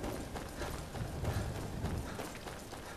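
Horse hooves clop steadily in the Skyrim video game, a faint, even run of rapid footfalls over a low rumbling background, with no talk.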